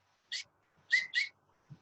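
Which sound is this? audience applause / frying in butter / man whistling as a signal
man whistling as a signal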